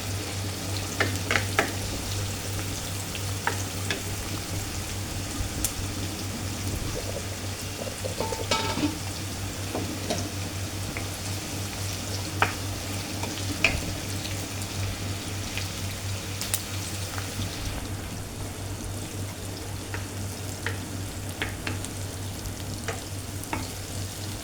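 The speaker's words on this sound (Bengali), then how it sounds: "এখানে পেঁয়াজগুলো হালকা নরম করে নেব" Onions fry and soften in a pan while being stirred: a steady close sizzle with scattered scrapes and clicks of the spoon, continuous throughout, no talk.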